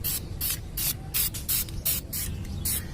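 Krylon olive and ACE flat black spray paint hisses from a can onto an airsoft gun in about eight short, even bursts, close and alone with no talking.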